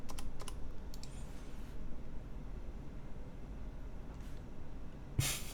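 Quiet, scattered clicks on a CannonKeys CK980C mechanical keyboard, a few quick taps then sparse keystrokes, ending in a louder clack.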